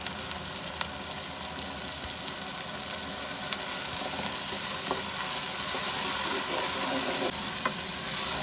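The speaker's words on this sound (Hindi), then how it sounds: "5 मिनट तक मसाले को अच्छी तरह भून लेंगे।" Masala for keema being fried in a pan, giving a dense, steady sizzle with occasional soft scrapes of stirring, close and continuous throughout.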